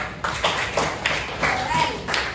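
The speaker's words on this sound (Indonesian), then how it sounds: "Tepuk tangan untuk kalian semua." A class of sixth-grade primary school pupils claps together in a series of short bursts of hand claps, fairly close and moderately loud, with a few scattered taps between the bursts.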